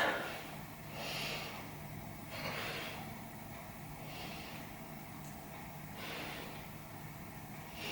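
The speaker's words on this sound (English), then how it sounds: "3 big breaths" Someone takes three big, deep breaths while holding a yoga stretch, each slow airy inhale and exhale rising and fading in a steady rhythm, close and quiet with no talk.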